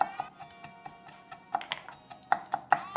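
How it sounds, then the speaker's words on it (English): Sharp knife strokes chop tomatoes on a cutting board in a kitchen, coming as irregular, close taps, a few in quick clusters, with no talking over them. "I'll keep chopping the tomatoes while you chop the peppers"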